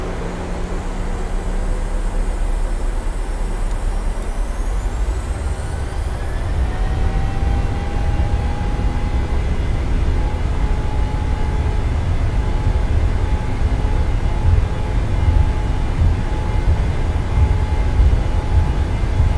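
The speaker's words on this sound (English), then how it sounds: "I will stay quiet during this takeoff, so you can hear at 140 knots the V1 call from the airplane" A Boeing 737 takes off in the PMDG flight simulator: a loud, steady roar of engine and runway noise fills the whole stretch, with a faint whining tone rising and holding as the jet accelerates.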